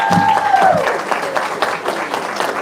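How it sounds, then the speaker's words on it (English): Applause from an audience at a high school men's basketball celebration, a brief round of clapping that swells and fades over a couple of seconds with a faint tone sliding down at the start. "I know he would appreciate that round of applause."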